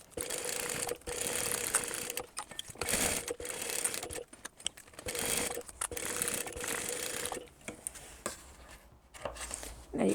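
A sewing machine bastes a recessed zipper panel onto a tote bag, running in several short bursts of rapid stitching separated by brief pauses, close and clear with no talk.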